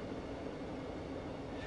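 A passenger train running between Bletchley and Bedford, heard as a steady broadband rumble and rail roar, continuous and fairly loud throughout with no voices.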